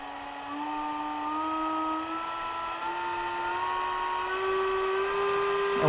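A CNC router spindle motor under RS485 control whines as it ramps up steadily toward 24,000 RPM, a clear, rising high-pitched tone with layered harmonics, close and continuous with no voices.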